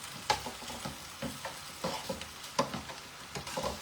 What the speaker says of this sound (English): I have the garlic in now with the sausage